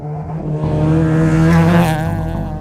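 An early Mazda rotary car accelerates hard down a straight, its engine note climbing from a low hum to a loud, rising buzzing wail, close by and without talk.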